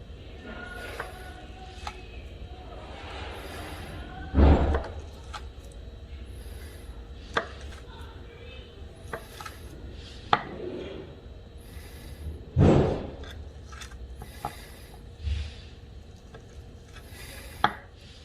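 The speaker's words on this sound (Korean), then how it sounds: "칼을 대고 하나씩 하나씩 잘라주시면 돼요" A few sharp knife cuts land on a board, well spaced with brief pauses between them, slicing scored ham for skewers, against a quiet background with light handling noises.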